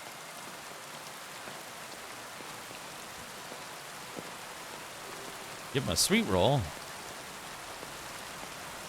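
Steady rain falls throughout a scene in the game Kingdom Come Deliverance 2, a continuous hiss with a short burst of speech partway through.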